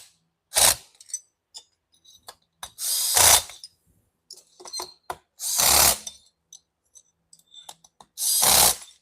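A small power tool drives in the cylinder screws on a Stihl MS 500i chainsaw during a rebuild, four loud short bursts of whirring and rattling separated by quiet pauses, with light clicks and handling noises between them.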